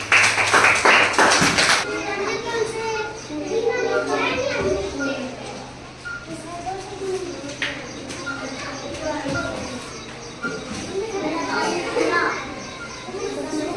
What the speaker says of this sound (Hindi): ताली बजाओ, ताली ताली।